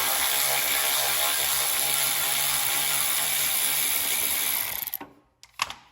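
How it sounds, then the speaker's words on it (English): An electric ratchet spins out an 8mm bolt on a John Deere S110 lawn tractor, giving a steady, close, high mechanical whir for about five seconds before it cuts off, followed by a couple of faint clicks. "I'm just going to use my electric ratchet and take it off."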